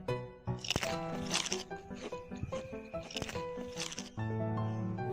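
Fried lumpia skin chips crunch loudly and close up in several sharp, rapid bites, dense brittle cracking against a faint background.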